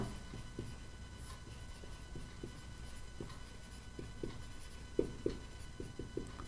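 A pen writing out a Class 10 maths solution, faint irregular scratching strokes over a steady low hum, with a couple of slightly louder taps near the end and no talking.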